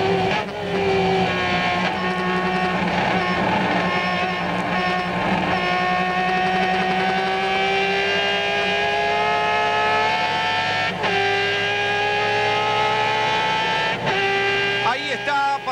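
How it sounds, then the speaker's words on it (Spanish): Onboard a 1997 Turismo Carretera race car during qualifying at La Plata, the engine drones loud and steady with rising and falling revs and brief gear-change dips, under continuous commentary. "nos metemos en el auto de Tito Urreta Vizcaya"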